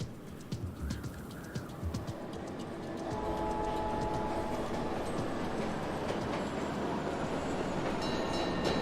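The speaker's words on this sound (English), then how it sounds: "They showed the whole train pulling up." Train pulling up in a Splatoon video game trailer, a steady rumble of rail cars with clicking and a faint metallic squeal as it slows, loud and continuous with no talk.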